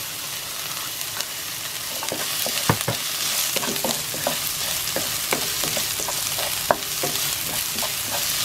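Sliced onion sizzling and frying in olive oil in a pan, a steady hiss broken by scattered crackles and the scrape of stirring, close and fairly loud with no talk.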